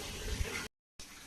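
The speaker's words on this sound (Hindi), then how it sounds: "चला रहे हैं पानी, बैठो।" Tap water runs to bathe a pet, a close, steady splashing gush that briefly cuts to silence and then resumes.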